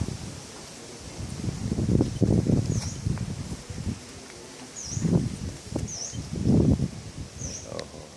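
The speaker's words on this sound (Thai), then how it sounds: "ลมแรงหน่อยนะครับ" Strong wind gusts outdoors at Phu Luang rush and rustle through vegetation in uneven surges, with a few short bird chirps above the noise.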